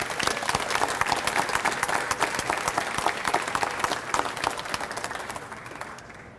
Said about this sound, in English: And let's give all the preliminary winners a round of applause.